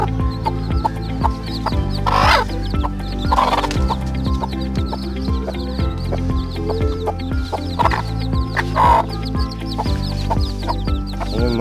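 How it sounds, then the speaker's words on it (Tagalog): Day-old native chicken chicks peep and chirp continuously in a dense, busy chorus close by, with a few louder calls standing out. "Yung mga sisiw natin mga kaibigan, ang gaganda."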